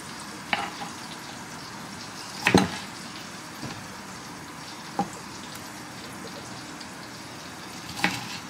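Semi-frozen sliced salmon searing in a pan, a steady low sizzle with a few sharper pops and crackles scattered through, fairly quiet and close, with no talking.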